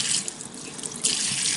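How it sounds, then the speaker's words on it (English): Running tap water rinses the exterior of a Midwest Tradition fixed-back dental handpiece, a steady close splashing hiss that surges briefly louder partway through. "You can use running water"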